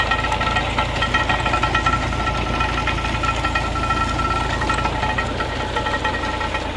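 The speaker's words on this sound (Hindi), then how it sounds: "ये गाइस मशीन चल रही है जहाँ से ये जूस निकलता है।" A sugarcane juice machine runs in a Pakistani village, a steady loud mechanical engine chug with a knocking, idling rhythm throughout, close by and without pause.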